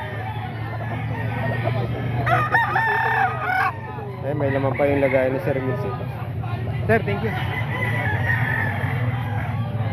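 Several roosters crow among a crowd of gathered chicken sellers, with repeated crows rising over a steady crowd murmur and someone talking nearby.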